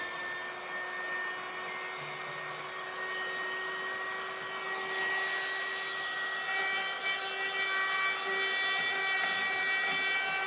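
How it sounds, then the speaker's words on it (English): A small USB-powered vacuum whirs with a thin, high-pitched steady whine, while scraping and rubbing sounds come and go as it moves over surfaces. "a little USB powered vacuum"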